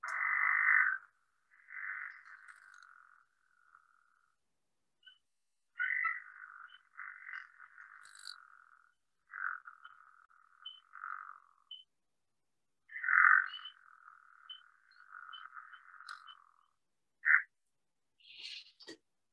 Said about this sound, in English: Here's a unique species that we have here in the state of Maine. It's called a mink frog.